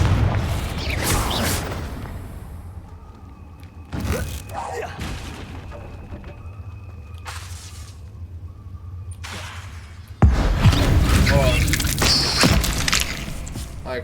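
Confringo blasting spells in the Hogwarts Legacy video game land as repeated loud blasts: a burst at the start, more mid-clip, and a heavy sudden boom that continues roaring to the end, with quieter game sounds between.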